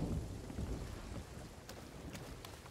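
Steady rain and low rumbling thunder in the pirate sailing game Sea of Thieves, a dense, hissing downpour with deep rolling booms, faint and continuous with no talk.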